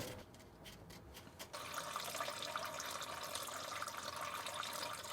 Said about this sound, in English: Now drain your coolant.